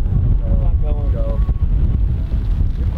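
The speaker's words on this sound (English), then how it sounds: "It's a lot of wind." Strong wind buffeting a microphone on an open golf course, a loud, low, continuous roar with gusty surges, with a brief voice in the middle.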